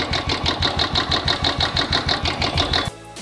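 A Royal Enfield Classic 350 motorcycle idles after an oil change, its single-cylinder engine thumping in a steady, even beat, loud and close, until it cuts off near the end.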